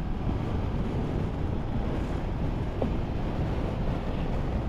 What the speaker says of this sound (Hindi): क्या ज़बरदस्त हवा चल रही है